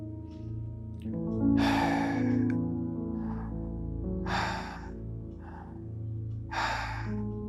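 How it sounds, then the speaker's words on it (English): Slow breathing in and out through the mouth, done while lying in bed, with three or four breathy exhalations spaced a few seconds apart over a steady low hum, close and fairly soft. "just breathe in with your mouth and breathe out with your mouth"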